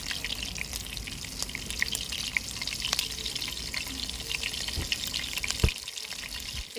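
Green chillies drop into hot oil with spluttering mustard and cumin seeds, a continuous close crackling sizzle with steady spits and pops and no talk.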